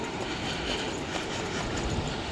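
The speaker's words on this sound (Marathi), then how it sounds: "बघा आता कोणती ट्रेन निघते बघूया आपण. बघा ही ट्रेन निघते" Train departing Panvel railway station rumbles and clatters as a loud, dense, continuous roar close by, with no speech over it.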